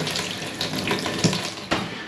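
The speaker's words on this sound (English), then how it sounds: "So we've got the water back on now, just tested the shower." Shower water runs steadily after a plumbing repair in a bathroom remodel, with hot and cold supply restored; a continuous hiss of spray with a couple of brief knocks, fairly close.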